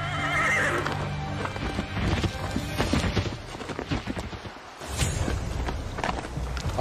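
Horses walking with steady hoof clip-clops and a loud whinny near the start, set in a documentary about horses brought back to the Americas by Spanish conquerors in 1494, with continuous hoof sounds and shuffling throughout.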